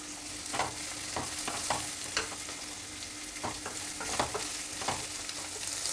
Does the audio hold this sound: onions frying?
yes